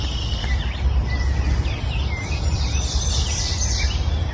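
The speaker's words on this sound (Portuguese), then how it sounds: "eu converso com esse pássaro aqui" Bird calling outdoors, a few thin chirps and whistled notes rising over a steady windy rumble, moderately distant and mostly masked by the background noise.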